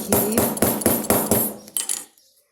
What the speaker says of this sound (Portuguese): Já vou dar uma martelada aqui.